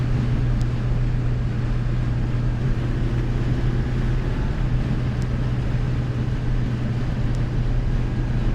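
Steady, loud engine and road rumble from inside a Citroën BX moving at about 120 km/h on a motorway, a constant low drone with no breaks.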